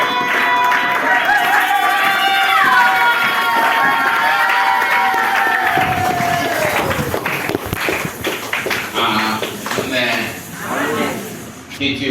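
A church congregation cheering and acclaiming God: a loud crowd of voices rising together with shouts and clapping, a sustained held cry at first breaking into scattered cheering.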